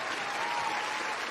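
A radio show audience applauds a Houston freestyle rapper, a steady, dense wash of clapping filling the whole brief moment with no pause.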